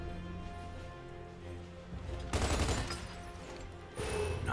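Rifle fire at targets in Gears of War 2 breaks out in two loud bursts of gunfire over a steady game background hum, the first burst lasting about a second and the second starting near the end.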